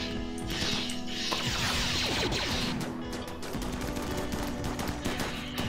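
Base turrets in RimWorld fire at attacking raiders in a dense, continuous rattle of rapid shots. Crashes and impacts come layered in, and the noise stays steady and loud throughout.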